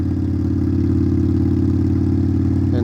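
A 2021 Indian Scout motorcycle fitted with a Hacker Mayhem exhaust rumbles at a steady idle, a deep, loud, evenly pulsing thump held close for a few seconds.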